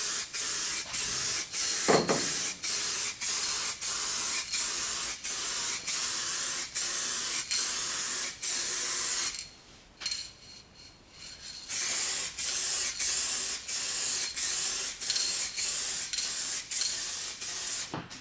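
Spray gun laying lacquer onto a freshly painted wheel arch of a Volkswagen Golf mk2, a loud steady hiss in short rhythmic bursts, close by, with a brief pause midway and no talking.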